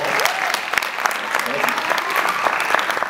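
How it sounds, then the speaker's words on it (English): Audience applause at Byrd Senior High School as a speaker's wife is welcomed to the stage, dense steady clapping from a crowd filling the room for about three seconds with no voices on top. "give her a hand clap"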